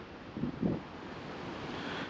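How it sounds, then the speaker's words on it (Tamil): Strong wind gusts across the microphone outdoors at a hill resort, a faint buffeting rush with a couple of brief low thumps early on, no talking. "காற்று தாங்க இங்கே நல்லா காற்றடிச்சிட்டு இருக்கு"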